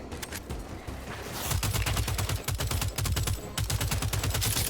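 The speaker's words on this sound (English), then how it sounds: "This one I'm using here is the SMG" Rapid SMG gunfire in the video game Second Extinction, sustained automatic bursts loud and close, a dense rattling stream with brief pauses between strings of shots.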